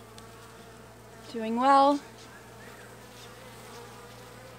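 A steady, close hum of honey bees buzzing on open comb during an Australian hive inspection, briefly interrupted by a short spoken phrase in the middle.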